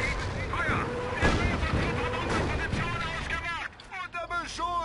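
Artillery and gunfire in the strategy game Company of Heroes: Tales of Valor, with booming blasts and rattling shots mixed under battle noise and voiced radio-style game dialogue.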